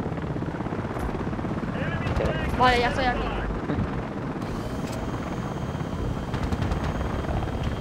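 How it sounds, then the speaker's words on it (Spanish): An AH-64 attack helicopter in the video game Battlefield Play4Free drones with steady rotor noise and wind throughout, while a player talks briefly over it. "Había un helicóptero que le pensaba disparar yo."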